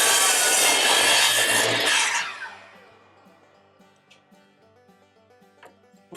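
A miter saw cuts an angled wooden board for a farmhouse coffee table, a loud, close buzzing rip lasting about two seconds that winds down into the motor's fading hum and soft clicks.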